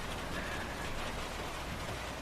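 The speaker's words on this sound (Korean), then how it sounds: "밤부터 양철 지붕 위로 겨울비가 오네요" Winter rain patters steadily on a tin roof as a soft, even hiss with no clear individual drops. No voices are heard.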